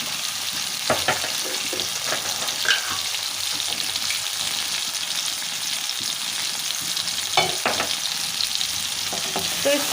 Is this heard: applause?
no